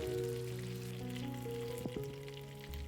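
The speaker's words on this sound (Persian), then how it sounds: "سیر رو با شعله ملایم حدود 1 تا 2 دقیقه تفت میدیم تا عطرش آزاد بشه" Chopped garlic sizzles steadily in butter in a pan over low heat, a soft continuous frying hiss with faint crackles, close and alone without talk.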